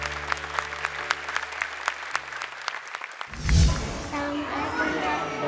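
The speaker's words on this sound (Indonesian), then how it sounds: "Boleh tepuk tangan lagi untuk Ula dan Umi dari Mesir" Studio audience clapping on an Indonesian televised Quran-memorisation talent show, a burst of handclaps over low music with a host's voice, then a louder cheer-like swell and continued crowd noise near the end.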